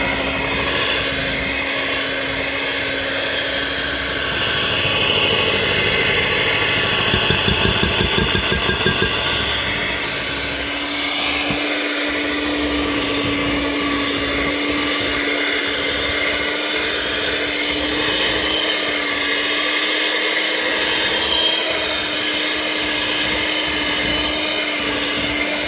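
A kitchen blender mixing cream cheese filling runs continuously at high, steady loudness for the whole stretch, a dense motor whir with a fluttering patch midway and no talking.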